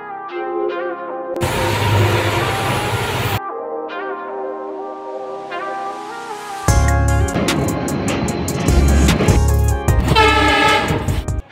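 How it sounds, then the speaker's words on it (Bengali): The Siliguri Intercity Express sounds its horn at New Cooch Behar railway station in repeated loud, blaring blasts, the last ones longer, over the rumble of the train. "রেলের যে হর্ন হংকিং"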